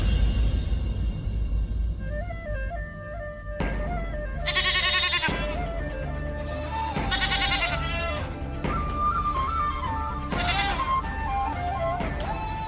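Sheep bleat repeatedly, loud and close, in a run of overlapping wavering calls from what sounds like several animals.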